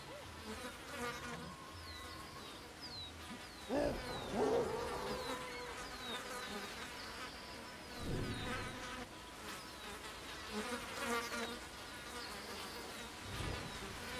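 Bees buzz steadily throughout a forest scene in the primate survival game Ancestors: The Humankind Odyssey, a continuous insect drone with a few louder low thumps and rustles passing over it.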